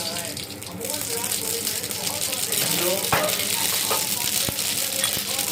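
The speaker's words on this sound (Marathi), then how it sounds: "मोहरी तडतडली" Mustard seeds spluttering in hot oil for a tempering, with scattered sharp pops and crackles over a steady close sizzle.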